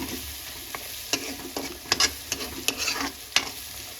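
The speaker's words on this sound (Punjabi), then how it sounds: "ਇਹਨੂੰ ਵੀ ਆਪਾਂ ਭੁੰਨ ਲੈਣਾ ਚੰਗੀ ਤਰ੍ਹਾਂ ਹੁਣ ਆਪਾਂ ਮਸਾਲਾ ਸਾਰਾ ਬਰਾਊਨ ਕਰਨਾ" Masala roasts in a pan while a spoon stirs and scrapes it in quick, irregular strokes over a soft, steady sizzle. The sound is close, with no talking.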